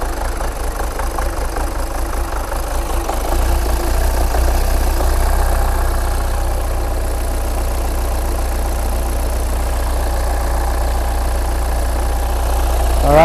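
A 2013 Hyundai Santa Fe diesel with an EGR valve fault idles roughly, a close, steady low clatter that hunts slightly in pitch and keeps running without any talking.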